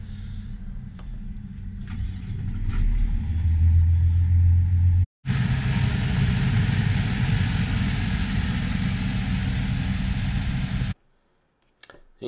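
A farm machine's engine, set up for the National Farm Machinery Show, rumbles loudly and builds, cuts off briefly, then runs on with a harsher, roaring drive before stopping abruptly, with a short quieter tail afterward.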